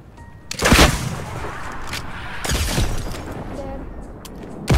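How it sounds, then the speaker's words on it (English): Sniper shots and gunfire in the Fortnite video game: a loud sharp crack near the start, then further bursts around the middle and a final shot at the end, over a steady background of game noise. "I'm getting sniped right now"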